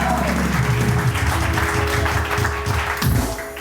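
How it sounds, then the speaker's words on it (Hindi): A studio audience claps for Munni Apa on a morning show, with loud, sustained applause under background music, swelling again near the end. "1 2 3 मुन्नी आपा के लिए बहुत सारी तालियां"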